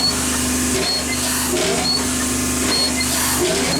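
Small steam engine with a freshly oiled cylinder and slightly loose parts, running with a steady close mechanical whir and regular light clicking.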